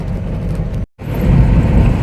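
Steady road and engine rumble from a car with a broken bumper cruising on a highway, loud and continuous apart from a brief dropout partway through.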